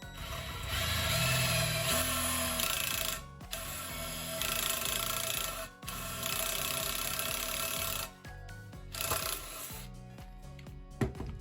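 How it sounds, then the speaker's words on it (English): A power drill bores holes into a plastic water bottle being turned into a tabletop smokeless firepit, giving a continuous whirring, grinding run with mechanical clicking that cuts out briefly a few times. "then I'll see if I'm able to flip over to this drill bit"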